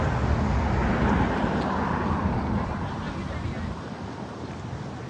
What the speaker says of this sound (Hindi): कितनी ज़बरदस्त हवा चल रही है।